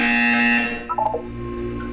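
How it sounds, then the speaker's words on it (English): A loud, steady electronic buzzer from the game Portal 2 holds for over half a second and then cuts off. A few short tonal blips and a lower hum follow. "You will hear a buzzer."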